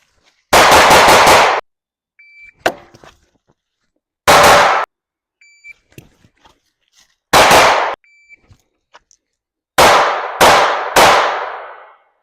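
A pistol is fired live at an outdoor shooting range: loud, close strings of rapid shots come in several separate bursts, with quiet gaps and faint clinks between them.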